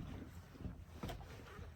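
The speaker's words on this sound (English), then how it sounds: "It's a little windy up here today, so I'm sorry if you can hear some of that" Faint, steady wind buffeting with low rumbling gusts, continuous and quiet throughout.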